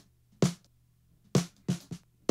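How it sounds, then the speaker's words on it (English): Snare drum top recorded with a 57 microphone, five sharp dry hits at an uneven pace with quiet gaps between them. "So snare top sounds like this. It's a 57."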